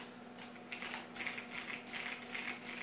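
Rapid clicky keystrokes on a Razer BlackWidow Tournament Edition 2014 mechanical keyboard, a tenkeyless board with Cherry MX Blue-style switches, arrive in quick uneven bursts, close and moderately quiet over a steady low hum.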